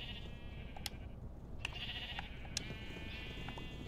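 Minecraft sheep bleat three times in short, distinct calls spaced across the clip, over a steady low rumble of game ambience, with no talking.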